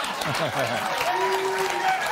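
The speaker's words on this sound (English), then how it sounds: "Don't applaud that." Studio audience applause at a TV talk show fills the whole clip, a dense steady clapping with some cheering, while a voice speaks over it.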